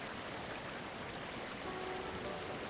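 A loud waterfall in the Muv-Luv Photonflowers visual novel: a dense, steady roar of rushing water, like heavy rain, filling the scene without a break.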